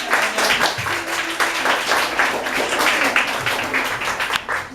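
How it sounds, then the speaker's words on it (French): An audience at a children's reading-challenge final claps warmly and continuously, dense hand-clapping in a room with faint voices mixed in. "On applaudit bien fort."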